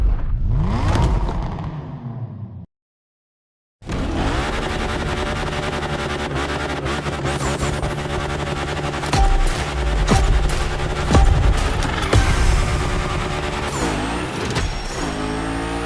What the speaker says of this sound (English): Lots of drivers out to burn rubber.